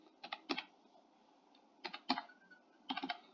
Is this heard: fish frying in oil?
no